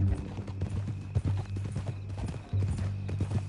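Horse hooves clip-clopping in Red Dead Redemption 2, a steady rhythmic trot close by with a brief whinny, layered over a low ambient game hum.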